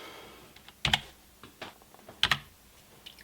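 Keystrokes on a computer keyboard entering a start address on an 8-bit computer setup fitted with a Turbo Chameleon 64 V2 cartridge: two close, sharp bursts of rapid clicks with a few lighter taps between, and no talk.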